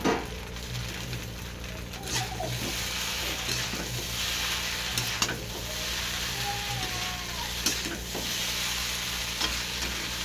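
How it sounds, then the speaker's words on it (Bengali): Chowmein with cauliflower, green peas, onion and carrot sizzles in a pan while being stirred, a steady close frying hiss broken by scraping and clinks of the utensil, with no speech. "চাউমিন ভাজা রেডি।"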